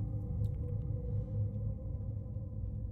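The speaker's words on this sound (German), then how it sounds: "Also wenn ihr komische Geräusche hört, hier ist Unwetter mit Gewitter und Hagel." Storm rumble of thunder and hail outside during a heavy thunderstorm: a steady, loud low roar with a few faint clicks above it, with no talk.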